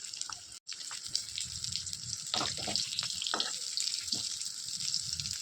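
Jackfruit seeds sizzle in hot white oil, a steady crackling fry with scattered pops and bubbling bursts that continues throughout, close and moderately loud.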